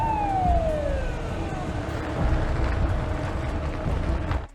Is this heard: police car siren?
yes